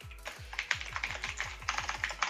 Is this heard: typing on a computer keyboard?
yes